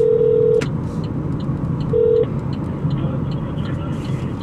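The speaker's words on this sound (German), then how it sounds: "Verbindung zu OnStar wird hergestellt." In a 2017 Opel Mokka X, OnStar connects a call with two steady dialing tones. Each lasts about half a second and is heard over the low hum of the car interior.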